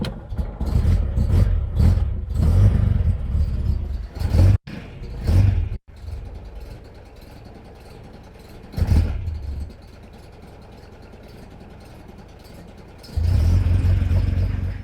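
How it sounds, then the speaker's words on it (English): A 1970s-style MGB GT engine with suspected worn engine mounts starts and runs, a rough, rumbling idle with heavy vibration, a few revs rising and falling, then settling into a low steady drone close by. "So I'll start the engine now and I'll show you how much vibration I've got there"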